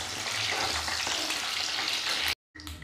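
Eggplant pieces fry in hot oil for an aloo baingan curry, giving a loud, steady, dense sizzle as they are turned over. The sound cuts out briefly near the end, then resumes.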